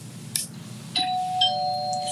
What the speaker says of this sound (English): this ding dong means that we are going to the next exercise